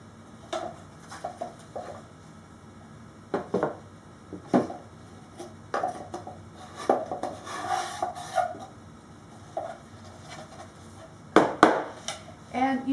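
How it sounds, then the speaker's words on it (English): Excess soap being dumped out of a tall, skinny soap mold gives scattered knocks, scrapes and rubbing sounds at close range, arriving in irregular bursts. "let me just dump this excess soap out"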